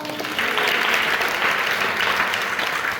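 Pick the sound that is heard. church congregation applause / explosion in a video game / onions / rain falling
church congregation applause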